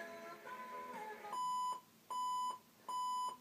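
An Arduino-powered alarm clock beeps in three loud, evenly spaced bursts, each about half a second long, after a short stretch of quieter background sound.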